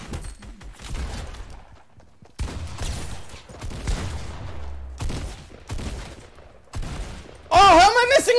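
Video game gunfire from Fortnite Team Rumble, bursts of shots in short clusters amid close, excited talk, ending in a loud sustained blast of firing.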